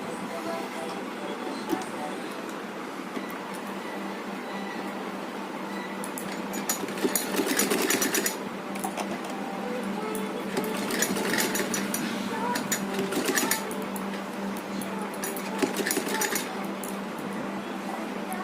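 A sewing machine stitches a ribbon dress for a size 3–4 Laddu Gopal figure, a steady close mechanical whirr that rises and falls as the stitching runs on.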